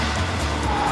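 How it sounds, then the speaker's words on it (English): Car with a 300 bhp supercharged Honda engine accelerating hard, a loud continuous engine roar with a rising whine toward the end, short and close. "this supercharged Honda engine version has 300 bhp and is good for 0 to 60 in under 3 seconds"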